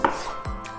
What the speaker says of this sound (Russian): нам нужно нарезать несколько слайсиков лайма